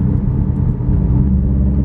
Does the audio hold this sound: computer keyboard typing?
no